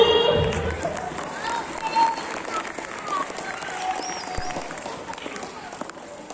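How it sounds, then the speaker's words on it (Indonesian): Audience clapping at a children's preaching contest for Maulid Nabi, loose scattered applause with cheering and voices mixed in, loudest at the start then settling into a steady patter. "Tepuk tangannya mana sih?"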